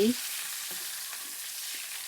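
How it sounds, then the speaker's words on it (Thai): Tilapia frying in a pan over medium heat: a steady, close sizzling hiss that carries on without a break, with a brief clatter at the very start. "เราจะทำการทอดทั้งสองด้านให้เหลืองกรอบ"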